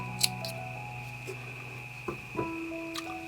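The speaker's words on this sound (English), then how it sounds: "go ahead and cut that last tail" Scissors trim the last yarn tail from a crocheted pine cone Christmas ornament: a few quiet, crisp snips spaced apart over a faint steady hum in a still room.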